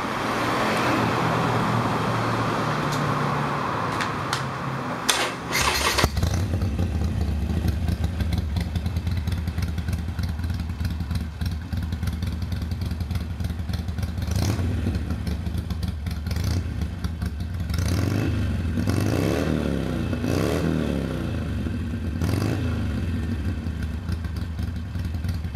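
A Harley-Davidson Iron 883 motorcycle engine fires up and idles with a deep, steady rumble up close, rising in a few revs along the way.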